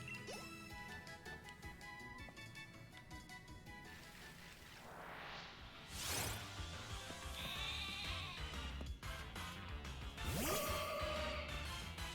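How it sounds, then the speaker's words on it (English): Wooloo sheep bleat in the Pokémon Sword and Shield video game, a few cartoonish bleats over steady game music with swooshing effects, fairly loud and continuous. "Oh, look at all those sheeps."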